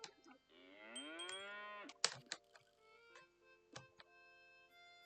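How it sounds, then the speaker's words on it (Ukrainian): A video game cow moos once in a long, drawn-out low call, followed by a few sharp clicks and thumps from game actions. "Корова."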